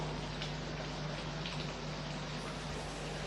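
Steady bubbling and gentle hissing of egg masala curry simmering in a pan, a continuous low churn with no voices.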